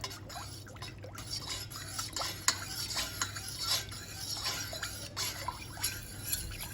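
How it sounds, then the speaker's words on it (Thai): A spoon stirs a white krachai drink mixture in a glass, making soft, repeated clinks and swishes of liquid at close range, steady and fairly quiet, with no talk. "เทใส่ไปเลยนะคะ ผสมกันเลยค่ะคนเข้ากันค่ะ"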